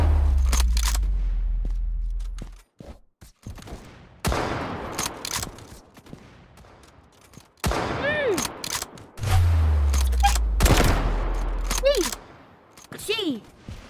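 Gunfire in the video game Rivals comes in several loud bursts of rapid shots with sharp attacks and booming low ends, separated by short pauses. Voices talk between and over the volleys.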